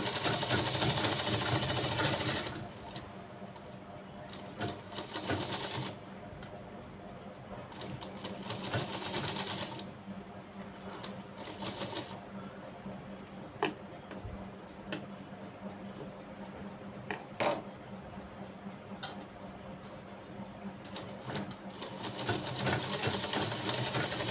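A sewing machine stitching piping onto a blouse runs in a steady, close mechanical whir with rapid needle ticking, stopping briefly and starting again several times, with no talk.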